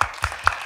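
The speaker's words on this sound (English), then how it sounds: "Please give her a round of applause" Claps ring out at a budget engagement forum hosted by the mayor, honoring the budget director and her team: a few sharp, evenly spaced claps over a brief moment, near and fairly light, with no voices.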